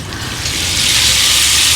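A rain stick held up to mimic falling rain gives a steady, dense rushing patter that slowly builds in loudness over a couple of seconds, close and continuous with no voices.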